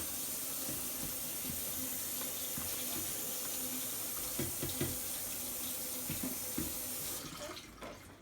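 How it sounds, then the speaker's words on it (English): Blueberries being rinsed in a strainer under a running sink tap, a steady splashing rush of water with small clatters from the berries, tapering off near the end, with no talking. "put them in a strainer over the sink and just rinse them off over."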